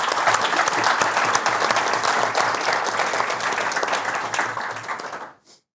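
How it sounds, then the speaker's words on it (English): An audience at a customer appreciation awards dinner gives a steady round of applause for an award winner, dense and sustained clapping filling the room before tapering off abruptly at the end. "One more round of applause for Tony"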